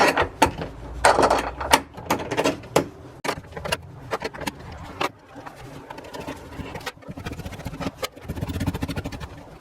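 Tail light nuts on a car being loosened and spun off by hand, with irregular clicks, ratcheting ticks and small metallic rattles up close, in uneven bursts with short pauses between them.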